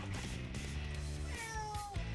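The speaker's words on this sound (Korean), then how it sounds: "야옹이의 모닝 밥 달라는 소리 배고픈가 보다." A hungry cat meows for its morning food, a single drawn-out close call that rises and then bends downward.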